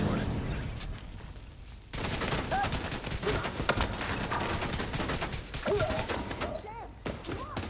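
Rapid bursts of video game gunfire fill the clip, loud and continuous after a brief quieter opening, with clattering mechanical effects mixed in.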